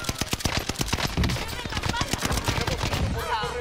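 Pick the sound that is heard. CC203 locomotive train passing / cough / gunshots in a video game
gunshots in a video game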